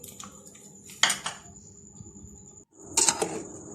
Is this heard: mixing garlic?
yes